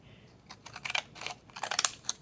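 Scissors cutting paper for a faux stamps craft, a quick series of close, crisp snips and rustles in two short bursts with no talking.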